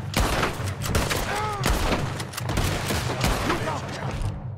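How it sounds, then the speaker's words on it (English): Heavy gunfire in the video game Red Dead Redemption 2, with loud, dense bursts of overlapping shots and booms that never stop, plus voices shouting underneath. "Nothing gets my blood pumping like shooting with the boys."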